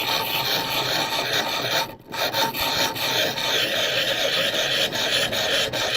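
A knife blade drawn steadily across a coarse 400 grit diamond sharpening stone, a continuous close gritty rasping with quick stroke changes and a brief pause near the middle.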